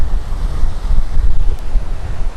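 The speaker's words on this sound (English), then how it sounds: "But it's so windy" Strong wind buffets the microphone on a Punta Cana beach with surf rumbling beneath, a loud and continuous roar with no let-up.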